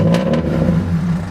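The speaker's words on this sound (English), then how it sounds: "Car starts up fine." A car engine turns over and settles into a loud, steady, low running drone close by, with a couple of brief sharp bursts at the very start.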